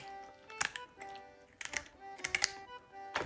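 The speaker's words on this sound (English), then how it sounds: "The carp got some pretty strong ribs, so we're just gonna cut through them with some scissors" Scissors snipping through the strong rib bones of a carp during filleting, a series of sharp, crisp clicks and crunches in small irregular bursts, close and fairly quiet, no talking.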